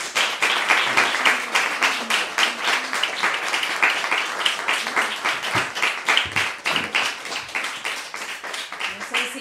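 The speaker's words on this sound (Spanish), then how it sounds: "un fuerte aplauso" Audience at a debate session on women in urban art claps in sustained, fairly loud applause, with distinct individual claps forming an uneven rhythm throughout.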